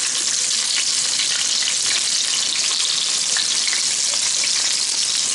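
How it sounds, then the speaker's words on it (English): Steady, dense sizzling and crackling of chicken frying in hot oil, continuous and close throughout with no voices. "Start the frying."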